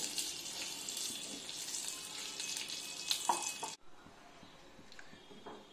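Whole cumin seeds, two bay leaves and one dried red chili crackling in hot oil, a close, bright sizzle that cuts abruptly to a quieter, faint bubbling partway through.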